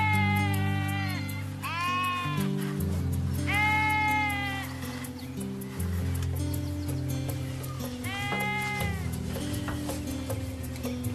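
Several loud, wavering bleats from goats and young kids rise in separate bursts over a steady musical backing.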